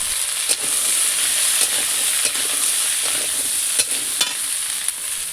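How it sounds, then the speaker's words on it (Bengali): Chopped vegetables fry in a kadai of hot oil with cumin and chilli, a dense, steady sizzle close by, broken by occasional sharp scrapes and clicks of stirring, with no voices. "এবার কড়াইতে তেল দিয়ে তার মধ্যে জিরে দিয়ে এবং লঙ্কা দিয়ে একটু নেড়ে চেড়ে তারপর তার উপরে আগে থেকে কুটে রাখা সেই সবজিগুলোকে দিয়ে ভালো করে ভাজতে লাগলাম"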